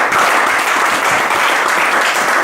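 A church congregation applauds loudly and continuously, a dense, even wash of many hands clapping close by with no pauses.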